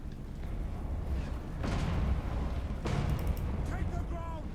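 Cannons fire during a Total War: Warhammer battle, with two heavy booming blasts about a second apart rising over a constant rumbling battlefield din.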